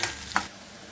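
Green chillies and chopped ginger frying in hot oil in a pan, a brief close sizzle with a couple of quick stirring scrapes, short and fairly quiet.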